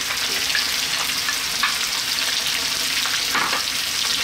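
Onion going into a hot pan for an Indian mutton masala lamb curry, giving a loud, steady, close sizzle with occasional stirring scrapes throughout.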